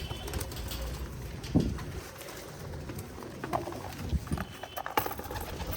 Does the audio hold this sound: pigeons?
yes